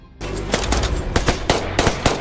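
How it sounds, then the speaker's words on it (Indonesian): Rapid bursts of gunfire in a film crack out in quick succession, loud and close, a rattling volley of shots spread across a couple of seconds. "Akhirnya, Ray berhasil menembak mati sniper itu."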